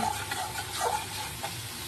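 Spices for a fish curry frying in oil as they are stirred: a quiet, steady sizzle and hiss with soft scraping of the spoon through the pan, with no voices.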